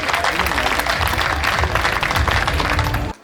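An audience at a Hindi comic and satirical poetry gathering bursts into dense, sustained applause, loud and continuous for about three seconds before stopping abruptly.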